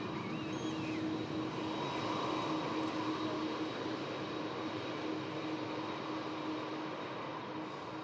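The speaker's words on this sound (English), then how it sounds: "just entering the runway now, the Virgin 350" A Virgin Airbus A350 moves onto the runway at Manchester Airport, giving a steady, broad jet-engine rumble and whine that holds at a constant, moderately distant level throughout with no talk.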